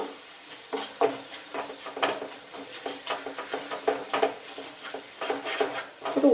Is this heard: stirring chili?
yes